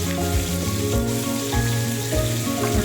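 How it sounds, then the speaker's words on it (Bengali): Tilapia pieces frying lightly in oil in a pan, a loud close continuous sizzle with crackling and occasional stirring or scraping bumps, no speech. "খুব সুন্দর ভাজা করছে।"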